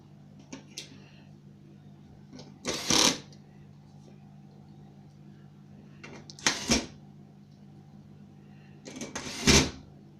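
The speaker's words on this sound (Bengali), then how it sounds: "আমরা মেশিন দিয়ে নাট লাগাই।" A powered screwdriver fastens nuts while an LED smart TV is being assembled. It gives three short, sharp whirring bursts spaced a few seconds apart over a quiet background hum.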